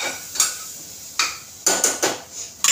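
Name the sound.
stirring Malvani masala in a cooker pot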